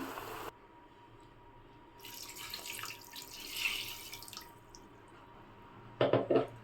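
Water runs into a mixer jar in a rushing, splashing stream lasting about two seconds, then fades to quiet, ending with a few short clattering knocks.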